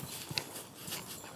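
A horse gallops gently around a riding arena during a training session in Teodoro Schmidt, Chile, its hoofbeats landing as soft, faint thuds at a moderate distance, with no talking.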